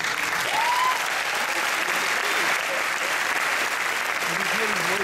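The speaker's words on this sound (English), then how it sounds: "So a round of applause for Maurice." An audience at a film premiere's post-screening Q&A breaks into dense, sustained applause, with a few faint voices underneath.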